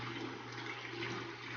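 Water pours steadily into a half-filled bucket as it is topped up for a blue spot jawfish tank setup, with a continuous close rush and no speech.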